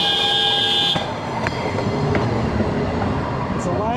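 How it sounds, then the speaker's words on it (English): A train rumbles past close by near the Barron Falls lookout in Queensland, its clattering wheels and steady roar loud and continuous, with a horn-like tone at the start. "I think I hear a train coming."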